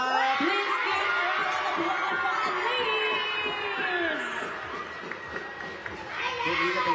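Crowd at a para swimming medal ceremony in Thailand cheering and shouting, a dense, continuous wash of many voices with whoops, loud and close throughout, with some speech mixed in.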